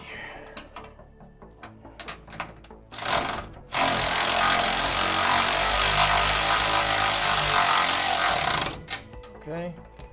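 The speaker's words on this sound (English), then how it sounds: "Start this off with the ratchet here." Ratchet turning in a garage, with a few clicks before a loud sustained grinding, whirring mechanical burst lasting several seconds, then more scattered clicks, with people talking in between.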